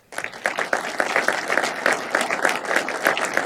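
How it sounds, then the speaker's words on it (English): Steady applause from a conference audience for a panel, dense rapid clapping that starts abruptly and holds at an even, fairly loud level throughout. "a round of applause for our panelists"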